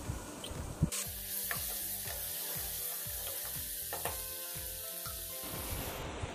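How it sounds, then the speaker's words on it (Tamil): Onion, ripe tomato and dried chillies sautéing in a pan for pepper chicken gravy give a soft, fairly quiet sizzle after a sudden start, with rhythmic scraping strokes of a spatula throughout and no talk. "இதையும் சேர்த்து நல்லா வதக்கி விட்டுக்கலாம்."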